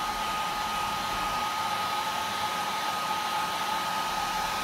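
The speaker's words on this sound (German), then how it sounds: "der Föhn ist ja dann doch relativ heiß." A hair dryer blows steadily while warming the magnetic door seal of a fridge. The continuous whirring airflow has an even pitch and stays at a constant level, close and uninterrupted, with no voices.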